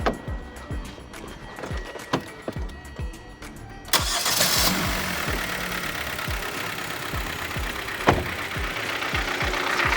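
A used Hyundai YF Sonata engine cranks and starts, then settles into a steady idle with a repetitive ticking, knocking abnormal noise, heard close and alone, with a sharp click partway through.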